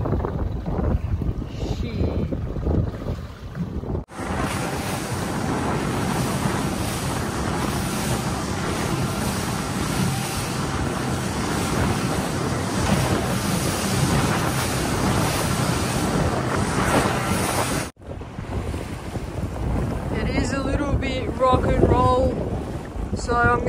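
Strong wind buffets the microphone aboard an offshore fishing boat near Sydney, a loud continuous roar with rushing air and water noise that drops briefly near the start and again near the end.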